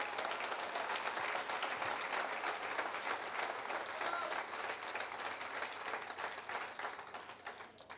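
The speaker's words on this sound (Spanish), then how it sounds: "Palmas al Señor, alábalo porque Él vive." A church congregation claps in praise during a Spanish-language sermon, sustained rhythmic crowd clapping that stays loud and steady, tapering slightly near the end.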